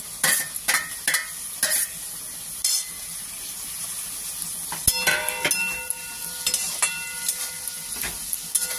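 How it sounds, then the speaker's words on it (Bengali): Vegetables and paneer fry in a pan with a steady sizzle, cut through by repeated scraping and clinking of a spatula against the metal as the food is stirred, close by with no talking. "এবার আমি পনিরটা এর মধ্যে দিয়ে দেবো, দিয়ে পনিরটাও হালকা হালকা করে ভেজে নেব"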